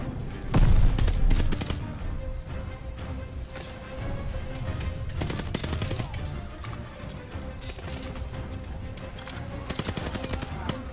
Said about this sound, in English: Did I really shoot my teammate?